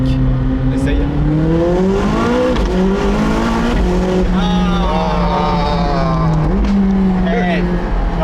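A McLaren 675 LT Spider in sport mode gives a loud, continuous engine drone that swells and shifts pitch with revs and gear changes, with people talking over it throughout.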